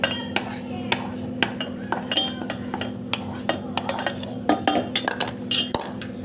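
Cooled mudakathan leaves being spooned into a mixer jar in a home kitchen: a string of light metallic clinks and taps of a spoon against steel, close and fairly loud over a steady low hum.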